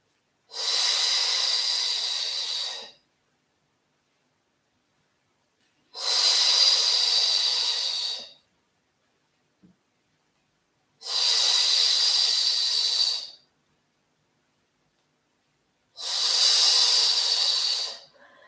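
Slow, paced breaths during a whole-body Pilates mat routine, four long airy exhales or inhales of about two to three seconds each, evenly spaced with silent gaps, close and clear with no talking.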